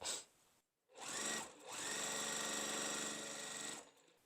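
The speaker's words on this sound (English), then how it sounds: "So I'm just going to flip this, sew it" A sewing machine stitches a Pressed Flowers quilt block, running in two steady bursts with a short pause between them, close and with no talk.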